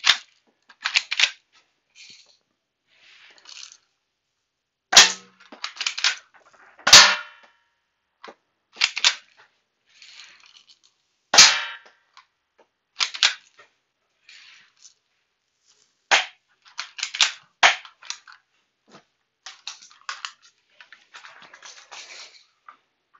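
Shots fired at a target ring out as sharp, loud cracks spaced irregularly, interspersed with faint clicks and handling noises in a quiet setting.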